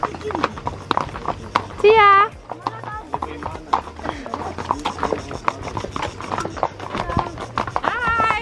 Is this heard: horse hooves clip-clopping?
yes